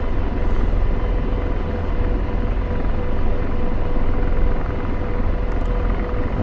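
An AH-64 Apache helicopter in the DCS flight simulator, its engine and rotor giving a loud, continuous low roar and whine as power is brought in, with no talk over it.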